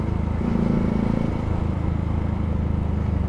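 Warmed-up motorcycle engine idling, a steady low throbbing rumble close by, holding an even rhythm throughout.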